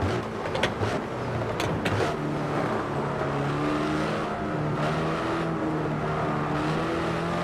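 A Hyundai Elantra N accelerates hard on a track lap. The loud engine note climbs and holds steady from inside the car, with a few quick gear-change blips early on and no talk.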